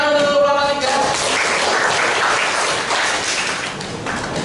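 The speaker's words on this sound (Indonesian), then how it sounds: "Beri tepuk tangan untuk kelompok 3" A classroom applauds a student group as it comes up to present, with dense clapping from many hands that follows a brief tonal sound and carries on steadily to the end.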